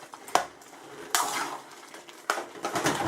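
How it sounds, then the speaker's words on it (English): Cooked noodles are stirred into chicken chow mein with pork and prawns in a pan, giving a few sharp utensil clanks and scrapes over a soft sizzle. "we're just going to stir them into Chow mein"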